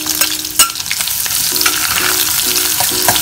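Sliced shallots and dried red chillies fry in hot oil for a pumpkin curry, crackling and sizzling loudly up close, with light scraping taps of a spoon stirring the pan.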